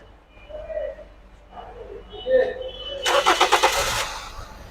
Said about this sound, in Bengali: আমরা এখন ইঞ্জিনটা স্টার্ট করব